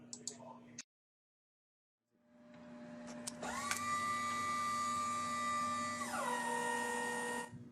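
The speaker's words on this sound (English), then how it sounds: "turn on emergency pump. You will hear a significant difference in the sound of the pump." Emergency electric hydraulic pump on a 2019 Easy Lift 70-36AJ lift starts after a short silence and runs with a steady loud whine and hum, its pitch dropping noticeably near the end as the load changes.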